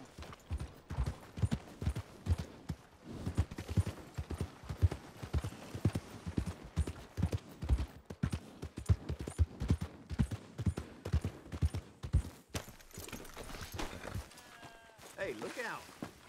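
Horse hooves trotting in Red Dead Redemption 2, a quick steady clip-clop of hoofbeats running for most of the stretch, with brief game sounds near the end.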